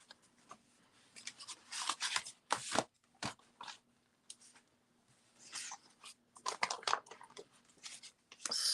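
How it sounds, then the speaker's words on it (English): Scissors cutting through wood-green cardstock for a handmade mixed-media fall card, heard up close as bursts of crisp snipping and rustling paper, separated by quiet pauses. "So let's cut that down."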